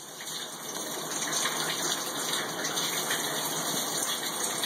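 Tap water gushes into a bathtub in a steady, loud rush that swells a little after the first second and continues unbroken, with no voices.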